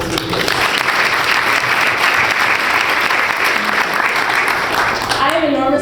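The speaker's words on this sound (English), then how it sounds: "How about a round of applause for these awesome speakers?" Audience at a conference applauding its speakers, dense sustained clapping filling the room at close range, steady throughout and fading only at the very end as a voice begins.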